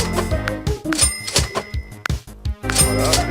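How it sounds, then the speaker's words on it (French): A cash register dings repeatedly in the idle clicker game Adventure Capitalist, bright metallic chimes stacked over a busy electronic music loop, several sharp pings spaced unevenly across the stretch. "Voilà, la caisse enregistreuse, on l'entend."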